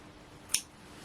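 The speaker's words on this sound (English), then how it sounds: "if I grab my scissors" Crafting scissors are picked up from a table in a quiet room, giving one brief, light metallic click with nothing else around it.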